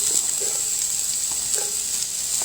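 Onions sizzle in a hot frying pan, a steady bright hiss with a few soft clinks and stirring movements, close and alone without voices.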